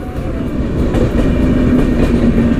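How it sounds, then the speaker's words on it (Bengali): A Shatabdi Express train passes close by, its loud steady rumble and rhythmic clatter of wheels filling the whole stretch. "টাইমিং হিসেবে ট্রেনেরও দেখা পেয়ে গেছি"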